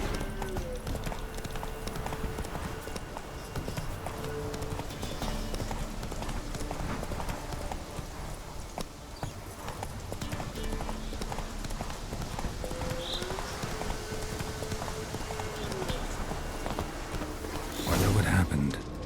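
Horse hooves clip-clop steadily at a walking pace while riding in The Witcher 3: Wild Hunt, a continuous rhythmic beat under game music and ambience, with a louder burst near the end.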